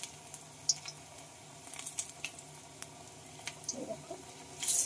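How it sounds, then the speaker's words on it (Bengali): Jackfruit pieces fry in a little oil over low gas, giving a quiet, steady sizzle with scattered soft crackles and a brief louder burst of spitting near the end. "এগুলোকে ভেজে নেব।"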